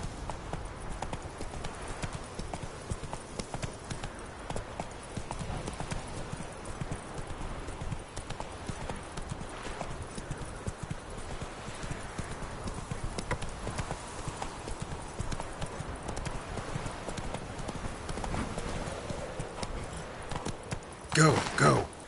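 Roach the horse gallops in The Witcher 3: Wild Hunt, a fast continuous drumming of hooves at steady close volume, with a brief louder burst at the very end.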